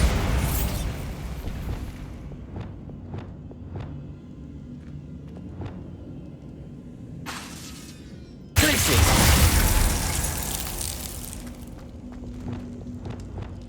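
A Bombarda spell in Hogwarts Legacy goes off as a sudden loud blast with crackling, shattering debris that dies away into rumble, after scattered smaller pops and footsteps earlier on.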